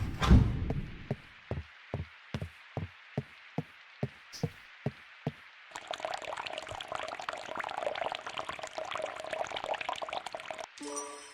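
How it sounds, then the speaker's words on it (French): Water poured out to water houseplants, a broad steady wash of liquid running for several seconds after a string of evenly spaced light knocks, close and moderately loud with no talking. "Allez, arroser les plantes, on va se dépêcher."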